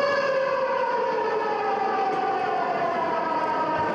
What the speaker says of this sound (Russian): Ровно в 11 утра алматинцы услышали тревожную сирену.